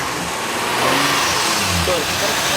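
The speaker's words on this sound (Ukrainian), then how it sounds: "Ну, мотор послухай." An off-road vehicle bought in the USA for soldiers idles close by, a steady mid-pitched engine drone with a slight rise in revs, while people talk over it.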